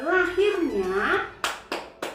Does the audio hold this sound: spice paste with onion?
no